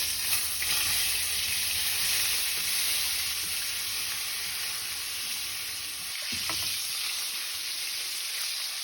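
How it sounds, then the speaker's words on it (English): Loud, continuous crackling sizzle of artichokes frying in a pan, close up, with a brief clatter of stirring partway through. "We're going to fry the artichokes a little bit."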